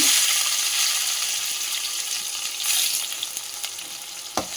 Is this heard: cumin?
yes